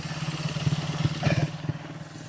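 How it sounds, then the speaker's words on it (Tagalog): Motorcycles pass by on a town street, a close, pulsing engine drone with a brief rise as one goes past, then fading. "Mga motor cycle na dumadaan."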